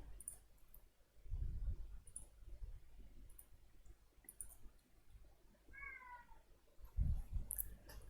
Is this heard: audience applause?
no